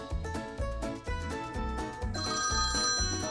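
A phone rings steadily in a cartoon ghost comedy, a loud musical ringtone repeating in a regular beat and brightening halfway through, with no voices over it.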